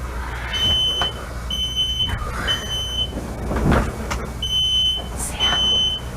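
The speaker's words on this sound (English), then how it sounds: "It's smoky. The alarms are going" During a home fire drill a smoke alarm sounds in a repeating pattern of loud, shrill beeps with short gaps between them. Rustling and household movement come through between the beeps, and no one speaks.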